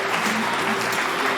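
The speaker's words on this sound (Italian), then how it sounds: "E su questo vorrei fare un grandissimo applauso" Dense, steady applause from an audience, a continuous wash of many hands clapping at once, loud and close throughout with a faint voice in the background.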